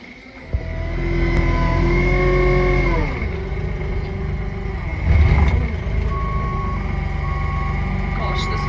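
A small JCB loader on a dairy farm drives off with a steady engine drone that shifts pitch as it moves, a clunk partway through, and a voice speaking over the machine.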